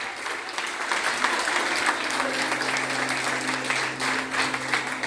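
A church congregation applauding steadily, a dense wash of clapping hands held for several seconds with a sustained musical tone underneath.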